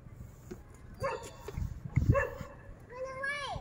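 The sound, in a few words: dog barking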